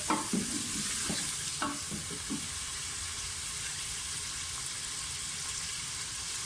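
Mutton fries in a pan with a continuous sizzle, several scraping strokes of stirring in the first seconds, then an even, moderate fry carrying on alone.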